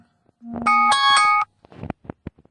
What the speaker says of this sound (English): That's my alarm going off.